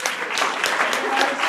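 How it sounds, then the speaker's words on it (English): Round of applause from an audience at a network marketing event, a brief, dense burst of many hands clapping, close and loud throughout. "give yourself a round of applause"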